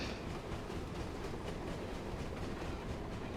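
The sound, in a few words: train passing in a video game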